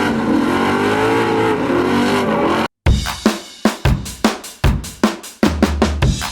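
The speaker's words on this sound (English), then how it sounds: "I can actually hear myself drifting now" A Ford Mustang Dark Horse with Stainless Works long-tube headers drifts, engine droning steadily before a brief cut, then a rapid series of sharp, loud throttle blips and revs in rhythmic bursts.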